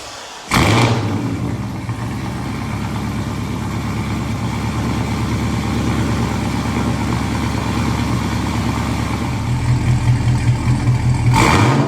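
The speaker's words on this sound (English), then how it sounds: "I forgot how freaking good this truck sounds" Pickup truck engine, idle for months with batteries disconnected and fuel pump out, cranks and catches, then settles into a loud, steady, rumbling idle close by with a few blips of revving near the end; no talk.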